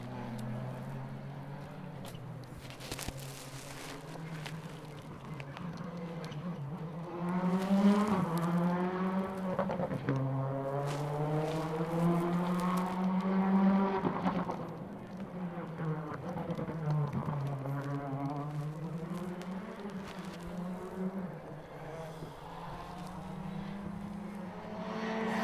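A rally car passes on a closed rally stage, its engine note rising through the gears and sweeping past at a moderate distance. The roar then fades into a steady background engine drone.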